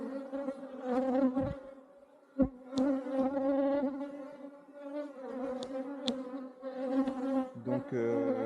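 Nervous honeybees swarm around an opened hive during a spring inspection, making a dense, close, steady droning buzz with wavering pitch and occasional faint clicks.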